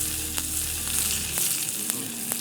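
Seeds, asafoetida, green chilies and curry leaves sizzle in hot oil for a pumpkin raita tempering, a steady close frying hiss with a few faint clicks of stirring.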